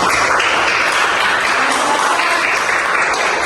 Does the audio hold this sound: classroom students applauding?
yes